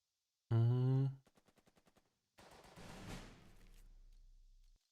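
Gunfire in the WW2 strategy video game Burden of Command: a short tonal blast, then a quick rhythmic burst of small rapid shots, followed by a heavier noisy explosion-like rumble that trails off.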